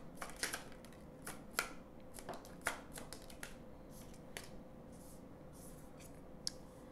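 Tarot cards drawn and handled for a reading, a series of soft, crisp flicks and snaps at an irregular pace, close and quiet, with no voices.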